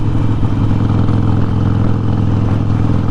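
A Harley-Davidson Forty-Eight 1200 idles nearby with a loud, steady, lumpy V-twin rumble and a rhythmic mechanical clatter throughout, with no talking.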